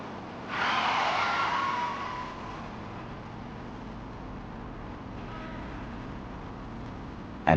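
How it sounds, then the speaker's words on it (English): A truck brakes hard and skids while swerving into a highway median, a loud tire squeal rising sharply and fading over about a second and a half into steady road rumble, with no talk. "The truck driver slams on the brakes and swerves into the median to avoid a motorhome blocking the road."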